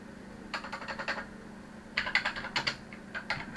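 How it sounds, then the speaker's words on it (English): Quick bursts of close typing on a computer keyboard, two clusters of crisp clicking keystrokes separated by a short pause, faint background hum, no talking. "if I was to type in here"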